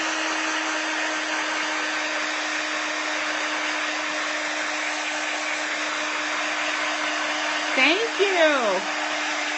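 A hair dryer blows steadily at close range, drying a freshly worked art journal page, with a constant whooshing hum throughout and a brief warbling pitch sweep near the end as a voice speaks.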